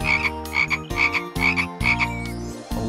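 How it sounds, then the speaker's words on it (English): Frog croaks repeat in a steady rhythm within a bright children's song about meadow animals, set over sustained musical notes and clearly audible throughout. "So they croaked and they croaked in the sand,"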